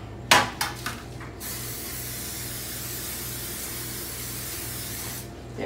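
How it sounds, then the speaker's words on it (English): Cooking spray hisses onto a sheet pan in one long continuous burst lasting several seconds, close and fairly loud, preceded by a few sharp clacks of handling the can and pan. "we're going to spray a sheet pan"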